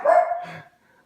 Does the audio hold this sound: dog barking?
yes